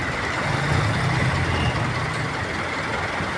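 Busy street traffic at the Kalentong corner in Mandaluyong City near a marketplace, trucks and buses rumbling close by with a steady roadway roar and a low engine drone swelling briefly, no voices.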